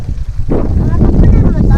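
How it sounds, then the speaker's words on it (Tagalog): Strong gusts buffet the microphone with heavy, rumbling wind noise at a campsite while a person speaks over it. "Nahirapan kami magtayo ng tent kasi sobrang hangin."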